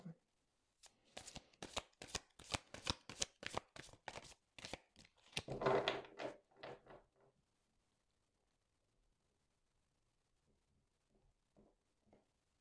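Tarot cards shuffled in rapid riffling bursts for a reading, close and crisp for about seven seconds, then fading to near silence with a few faint soft touches.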